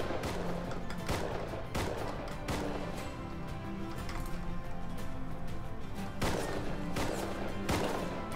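Gunfire in the survival game Rust crackles in repeated bursts and single shots over several seconds, sharp and fairly close amid constant background game noise.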